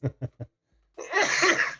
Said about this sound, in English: those are some nasty coughs